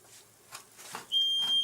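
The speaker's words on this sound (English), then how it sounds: "it would not be a K video if the fire alarm didn't go off at some point" A smoke detector goes off during Christmas dinner cooking, its shrill steady beep starting partway through after some quiet kitchen clatter.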